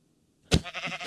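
Sheep bleating in the Minecraft video game: a short, silent lead-in gives way to a loud, close bleat, a wavering middle stretch and a second bleat at the end.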